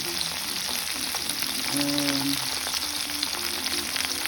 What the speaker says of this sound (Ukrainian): Жарю картоплю.